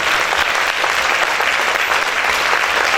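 A church congregation claps loudly and steadily, a dense continuous wash of many hands with no pauses, close and full throughout.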